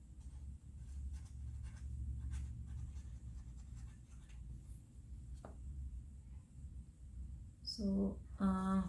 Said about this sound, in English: I'm going to write before I forget